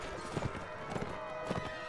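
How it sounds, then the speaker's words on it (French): Horses gallop across a battlefield in the video game Mount and Blade Warband, with rhythmic, fairly close hoofbeats repeating in short bursts over a steady game background. "Il y a des chevaux partout, là."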